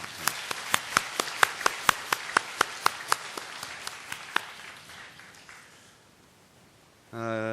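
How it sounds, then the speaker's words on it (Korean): A church congregation in a Korean Sunday service claps in welcome for visiting family members. Crisp, evenly spaced claps start out steady, then thin and fade over several seconds before a voice speaks near the end. "박수로 환영하겠습니다"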